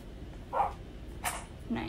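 A dog in the Roblox game Piggy (Chapter 3) gives three short, separated barks or yips over a quiet background, each brief and moderately loud.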